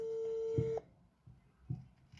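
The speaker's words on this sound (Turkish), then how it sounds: "Çalıyor." An outgoing WhatsApp call on a phone gives a steady electronic ringing tone that cuts off after under a second, followed by faint room noise and a couple of soft low thumps.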